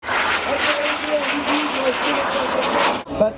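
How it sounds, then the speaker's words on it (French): Military airplane flying slowly overhead at the NATO Tiger Meet 2011 air show in Cambrai, a steady broad engine roar under continuous commentary, cutting off abruptly near the end. "regardez la maniabilité de l'avion malgré sa faible vitesse."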